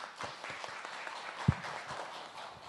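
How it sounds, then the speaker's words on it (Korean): An audience at a gender equality forum session claps in a moderate, steady patter to welcome a speaker, with one louder thump standing out midway. "박수로서 환영 부탁드립니다."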